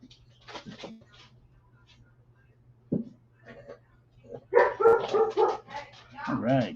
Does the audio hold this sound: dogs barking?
yes